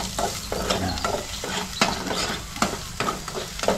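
Food sautéing and being stirred in a pan at home, a steady sizzle with regular scraping strokes of the spoon against the pan, close and continuous.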